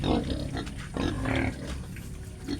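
Pregnant sow grunting on a pig farm, low rough grunts repeating steadily and close over farm background noise, with no talk.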